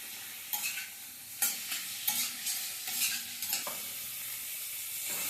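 Chicken fries in butter in a pan with garlic and ginger, a constant close sizzle broken by several sharp stirring scrapes at irregular intervals, with no talking.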